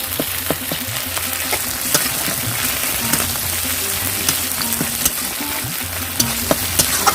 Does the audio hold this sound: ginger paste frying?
yes